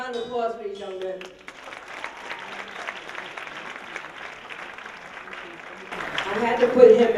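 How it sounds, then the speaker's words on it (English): Audience applause at a 2015 Essex County College event with a guest performer, moderate clapping that follows a speaking voice and fills the middle, with talk resuming over it near the end. "Round of applause for these young men."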